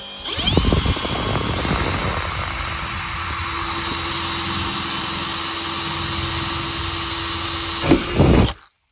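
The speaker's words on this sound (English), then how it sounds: "I'm going to drill a little hole there and there with my drill" An electric drill whirs loudly and steadily for several seconds as it drills a hole in a Nissan NV200 van's body panel, spinning up at the start and winding down at the end.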